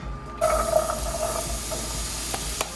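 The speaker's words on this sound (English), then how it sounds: "now we are gonna saute our 2 cups of chopped potatoes. Sweet potatoes." Chopped sweet potatoes hit hot organic extra virgin olive oil in a pan, starting a sudden loud, steady sizzle and hiss, with a couple of brief clicks near the end.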